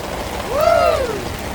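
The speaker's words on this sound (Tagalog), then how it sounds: "Grabe ang lakas ng ulan." Steady, dense heavy rain hiss fills the clip around an electric car charging outdoors, with a short gliding tone rising and falling briefly in the middle.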